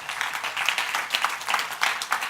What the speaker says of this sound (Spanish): Alguien le da un aplauso al Señor esta noche.